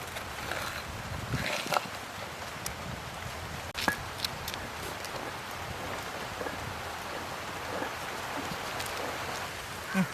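Rain falls steadily in a Sri Lankan village, a dense even patter with occasional louder drops hitting nearby surfaces; no one speaks.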